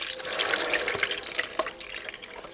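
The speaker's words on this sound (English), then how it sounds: "drain this through the sieve into the sink" Water from soaked raw rice pours through a sieve into a kitchen sink, a steady splashing rush with a few drips that eases off slightly toward the end.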